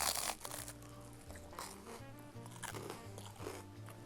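Loud, close crunching bites and chewing of a crisp anchovy antipasto, a run of sharp crackles with a little background noise and no talk.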